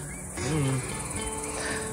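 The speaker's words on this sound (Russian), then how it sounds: "Комары просто задрали, кусаются страшным образом" Swarms of biting mosquitoes after a hurricane, heard as a constant high whine close around, with a brief lower tonal sound near the start.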